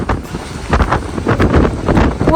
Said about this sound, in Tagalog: Sabi, lakas ng hangin.